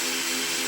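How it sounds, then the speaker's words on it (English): A power drill with a metal bit bores slowly through the steel of a tractor bucket, giving a steady, loud, continuous whine with no break. "we're just going to drill through nice and slow"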